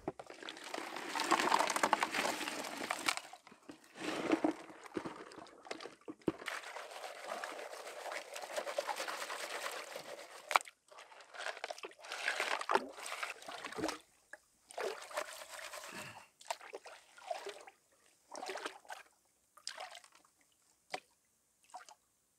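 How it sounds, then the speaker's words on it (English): Water sloshing and trickling as a gold pan is swirled and dipped in a bucket of agitated water while prospecting in Lapland, with irregular splashes and drips, close and fairly strong in the first half, then quieter and more intermittent. "So let's do the bucket and pan method,"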